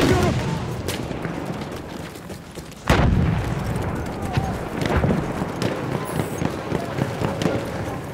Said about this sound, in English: Dikkat! Bomba atıyorum!